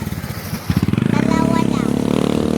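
A motorcycle engine heard up close, starting with uneven pulses and then settling into a loud, steady throbbing drone that carries to the end.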